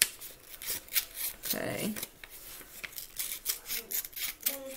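Scissors snip paper in a series of short, close cuts while making rolled paper roses, and a person speaks briefly between the cuts.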